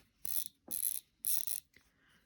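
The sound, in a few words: loosening the drag on a Zebco fishing reel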